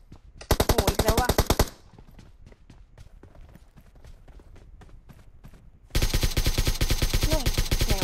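Machine gun fire in PUBG Mobile erupts in loud, rapid rhythmic bursts, then gives way to quieter distant single shots before another long close burst; voices talk faintly underneath.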